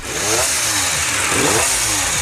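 A V8-engined motorcycle from decades past runs loudly and close, its engine note rising and falling in a steady revving drone with no talk.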